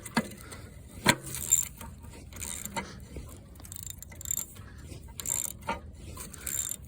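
Ratchet wrench clicking on bolts during the teardown of a Wisconsin V4 engine, with short bursts of ratcheting spread irregularly through the clip over quiet workshop background.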